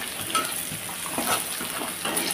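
Nigella seeds (kalo jeera) hitting hot oil while garlic browns during a kochur loti preparation, giving a steady, close crackling sizzle with small popping bursts and occasional light stirring.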